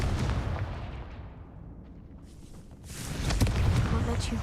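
A blasting fire spell explodes in the Hogwarts Legacy video game: a low booming burst swells after a quieter stretch, with rumbling combat noise trailing off around it.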